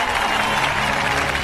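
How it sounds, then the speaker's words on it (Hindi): A crowd in a Ravi Teja movie scene claps in dense, steady applause, a loud, even wash of many hands with no clear pauses. "बजाओ ताली।"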